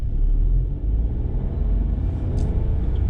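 A 2020 VW Polo accelerating to pick up speed, a steady loud low rumble of engine and road noise throughout with no talk.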